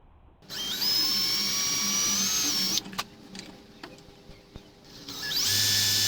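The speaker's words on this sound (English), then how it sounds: "I then removed the camera and drilled 3 small holes inside of the case." A small power drill bores holes into a plastic action camera case, whining steadily for a few seconds, stopping with faint clicks and handling, then spinning up again near the end.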